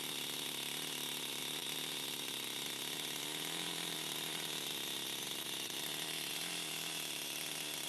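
An OS 26 four-stroke nitro RC engine running rich at a high idle gives a steady, loud, continuous buzzing drone that holds unbroken throughout, with no talking over it.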